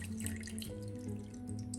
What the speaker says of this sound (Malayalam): പിന്നെ ഇത് അരയാൻ ആവശ്യമുള്ള കുറച്ച് വെള്ളം